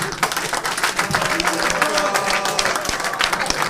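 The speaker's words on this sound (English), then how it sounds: "Big round of applause." Crowd applause at a former senators' forum, busy clapping mixed with murmuring voices and some tonal background sound, fairly loud and continuous.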